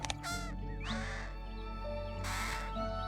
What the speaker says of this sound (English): I like the way the American Crow sounds.